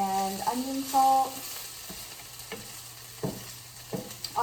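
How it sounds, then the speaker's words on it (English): Trader Joe's shredded hash browns seasoned with salt, pepper and onion salt fry in a pan, with a few tonal clinks at first, then a soft sizzle and occasional scraping stirs. "I'm making the shredded hash browns from Trader Joe's"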